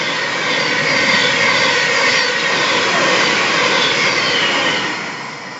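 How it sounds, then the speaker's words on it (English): A Class 700 electric train passing through Hatfield station at speed, a loud sustained roar and rail howl close by, holding steady and then beginning to fade away at the end. "And that train was really howling on the rails."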